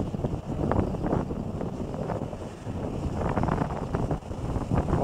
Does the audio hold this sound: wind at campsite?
yes